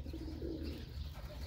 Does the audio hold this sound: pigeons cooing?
yes